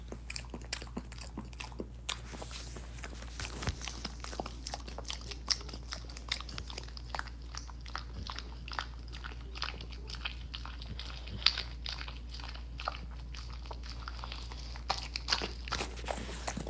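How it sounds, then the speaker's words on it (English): A toothless animal chews loudly and wetly, giving a quiet, continuous run of irregular crunching and smacking clicks close by, with no talking. "The loudest chewer I have ever heard in my life."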